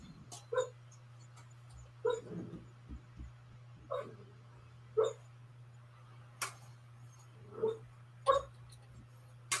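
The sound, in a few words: dog barking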